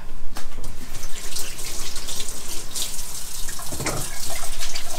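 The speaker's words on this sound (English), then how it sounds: "I'm gonna wash my hands real quick" Water runs steadily from a kitchen tap into a sink while hands are washed, a close, loud gushing splash with small fluctuating surges and no talk.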